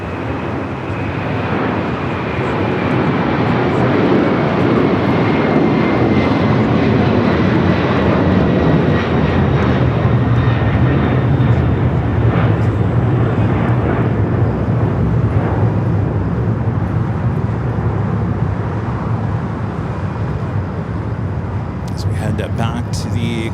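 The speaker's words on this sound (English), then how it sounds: "we got an Atlas Air Queen rolling down at 25 right," An Atlas Air Boeing 747 rolls down runway 25R at Los Angeles airport on takeoff toward Honolulu, a powerful continuous jet roar with a faint high whine that stays strong throughout.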